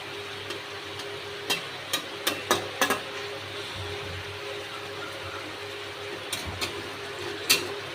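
Gravy stirred in a pan, with scattered sharp clicks and scrapes of the spoon against the metal spread irregularly over a steady low background hiss.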